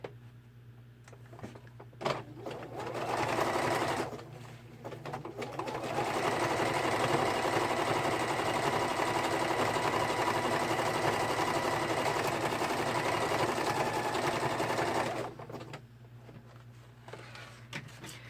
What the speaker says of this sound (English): stitching from the back also gives you a straight line to measure your foot against